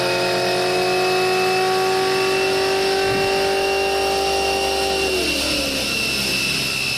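A car engine holds a high rev with a strained, steady tone, then drops off as the revs fall, loud and close with no talk.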